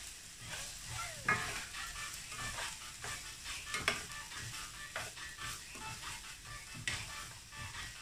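Celery stir-fried in a pan for pancit, a faint continuous sizzle with repeated scraping and clinking stirs of a utensil against the pan, close and quiet, no talk.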